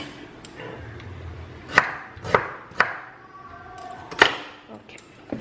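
A knife cutting ginger on a board for chicken rendang, with about five sharp, separate chops at uneven intervals, close and clear over quiet background and a speaking voice.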